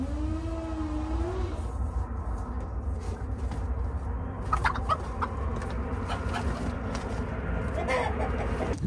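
Soft clucking from a rooster over a steady low rumble of background noise, with a brief higher call near the start.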